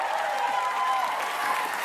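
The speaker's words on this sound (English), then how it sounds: "First ever round of applause for open mics" A comedy show's audience claps and cheers at a stand-up comic's mention of open mics, a continuous, fairly soft roar of applause that holds evenly throughout.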